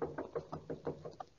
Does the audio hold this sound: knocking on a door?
yes